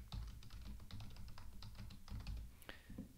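Quiet, rapid typing on a computer keyboard while entering a root password during server setup: a string of close, irregular key clicks with a few brief pauses and no speech.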